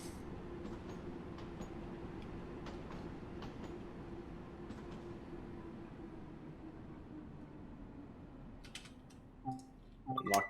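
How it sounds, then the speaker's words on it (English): In Train Sim World 2 on the London Underground Bakerloo Line, an AI train rumbles past in the other direction, a steady rolling clatter of wheels on rail that fades, with sharp clicks and a couple of thumps near the end. "See an AI train coming the other way right there."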